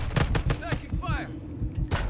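Gunfire in Call of Duty Modern Warfare II: a rapid series of close, sharp shots and thuds, broken by brief gaps and a final burst, with voices talking over the battle.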